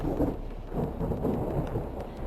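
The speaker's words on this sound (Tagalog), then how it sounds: "Kulog sa langit." Thunder as a sound effect in a dramatic fantasy story, a loud, continuous low rolling rumble with no talk over it.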